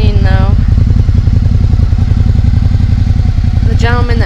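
A 2015 Suzuki SV650 motorcycle engine idles steadily nearby with an even, fast low thump throughout, quiet overall, with brief voices at the start and end.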